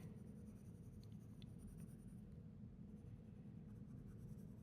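Cheap coloured pencil lightly shading on paper, a soft steady scratchy drawing sound close up and quiet, continuous throughout with no voices.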